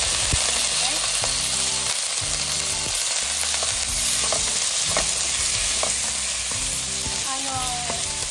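Beef hits a hot pan with garlic, potato and onion, giving a loud, steady sizzle and crackle throughout, with occasional clinks of a utensil stirring.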